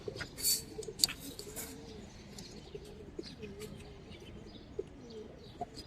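Pigeons coo softly in low repeated phrases, with a few sharp chirps and faint background rustling.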